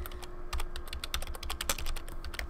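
Rapid clicking of computer keyboard keys as a chat message is typed for a Minecraft server, a steady run of close, crisp keystrokes with no talking.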